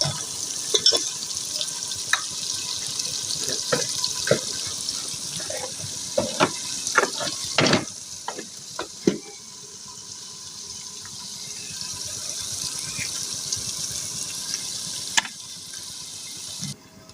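Tap water runs steadily into a sink while onions, garlic and green chilies are rinsed, a continuous hiss broken by clattering splashes and knocks early on, then a smoother flow near the end.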